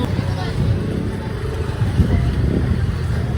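Engine rumble of motorcycles moving along a busy Quiapo, Manila street, with street babble and traffic noise throughout and no clear single pass.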